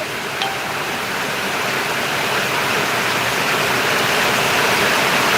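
Dense, steady rain pours down in a thunderstorm in Valliyur, with a constant broadband hiss, loud and close, no voices.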